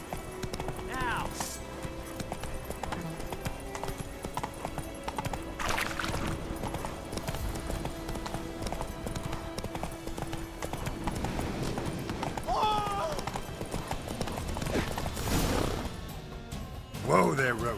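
Roach the horse gallops in The Witcher 3, hooves clip-clopping in a fast steady rhythm alongside battle noises and several voices talking over the action.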